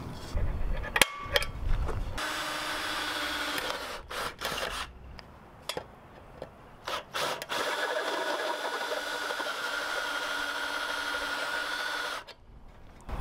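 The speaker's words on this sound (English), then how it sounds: "I wanna try the step bit again as well at a slower speed, and I'm gonna use a pilot hole ahead of that." Power drill with a step bit boring holes at a slower speed, with a pilot hole drilled first, for a DIY firepit. Several close, irregular bursts of drilling whine are broken by pauses and clunks.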